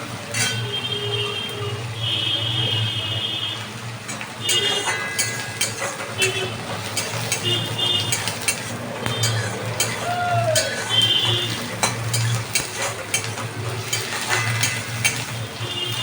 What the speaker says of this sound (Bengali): পেঁয়াজটা দিয়ে ভালো করে আমি নাড়াচাড়া করতে লাগলাম